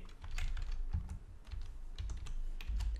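Someone types PHP code on a computer keyboard, producing rapid, irregular close-up key clicks with a few heavier strikes and no talking.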